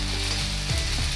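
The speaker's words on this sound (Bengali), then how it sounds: "আদা, রসুন, পেঁয়াজটা আমি একসাথে ভেজে নেব।" Ginger, garlic and onion fry together in a pan for a soybean muithya recipe, giving a steady, close sizzle with no talking.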